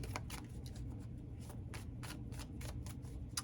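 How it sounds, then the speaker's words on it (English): Tarot cards are shuffled close up in a continuous run of quick riffling flutters over a low background hum. "you're really pulling out some cards today"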